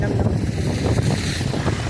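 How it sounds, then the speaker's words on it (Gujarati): Strong gusty wind buffeting the microphone at a fishing jetty on the coast, a loud continuous rumbling roar with sea and boat noise blended underneath. "પવન બહુ છે"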